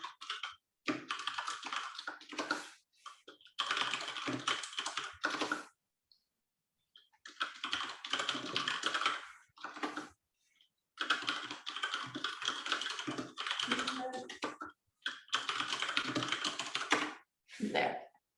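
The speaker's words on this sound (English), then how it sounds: "I'm just writing the comments in the chat, so that's why there's lots of typing but not talking." Bursts of typing on a computer keyboard at close range, with fast clattering key presses in runs of a few seconds and short silent pauses between them, without any voices.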